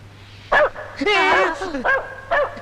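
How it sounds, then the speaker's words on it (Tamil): A dog barks several times in short, sharp bursts close by, mixed with yips and whimpering tones, while a person talks over it and a low hum runs underneath. "அதுதான் நாய் குலைக்குது"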